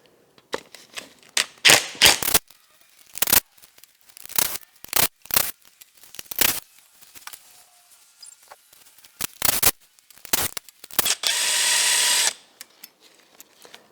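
Power tool spinning out 10mm bolts around the front timing cover of a BMW E31 850i V12 engine, heard as repeated short loud whirring bursts with ratcheting clicks between, ending in one longer sustained run.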